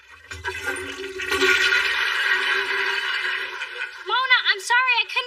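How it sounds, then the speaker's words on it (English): A toilet flushes with a rushing, gurgling swirl of water that fades after a few seconds, followed by a voice speaking briefly in a sitcom scene. "I couldn't hear you over the toilet flushing"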